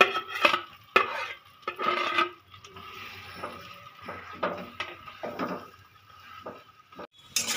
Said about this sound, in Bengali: এবার আলুটা আমি সুন্দর করে নেড়ে নেব